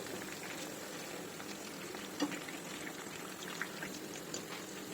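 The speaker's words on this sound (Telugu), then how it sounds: "ఇంకొన్ని ముక్కలు ఉన్నాయి వాటిని కూడా డీప్ ఫ్రై చేసేసుకుందాం" Chicken pieces deep frying in hot oil, a steady close crackling sizzle with scattered small pops, moderately loud and even throughout, with no talking.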